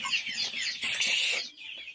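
Free-range country chickens cluck and squawk in quick, close bursts, several overlapping calls rising and falling over a couple of seconds before tapering off.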